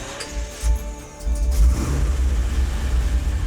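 A fully restored 1966 Chevrolet Corvair fitted with headers idles close by, giving a deep, steady low rumble with a brief louder swell midway, alone and without talk.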